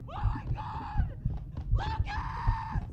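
Two bursts of a woman's high-pitched screaming, each about a second long, sounding somewhat distant over low thumping background noise.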